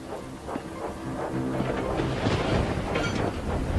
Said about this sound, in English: As the storm raged, Thomas puffed furiously up the steep track.